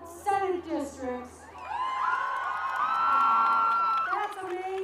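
A large crowd at a gay rights lobby day breaks into a loud, sustained cheer with whoops and shouts, following a speaker's amplified voice.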